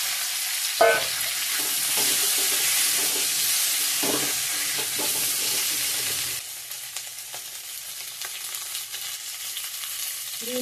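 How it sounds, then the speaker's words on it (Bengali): Onion, dried chilli, bay leaf, panch phoron spices and ginger sizzle in hot oil in a pan, joined by boiled potatoes, a steady loud frying hiss with a few stirring clatters, quieter after the potatoes go in. "ফোড়ন দিচ্ছি, পেঁয়াজ, শুকনো লঙ্কা, তেজপাতা, পাঁচফোড়ন আর একটু আদা দিয়ে দিলাম।"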